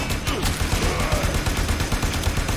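Gun firing in the video game Warframe: a dense run of rapid, loud shots packed close together for the whole stretch, with no talk over it.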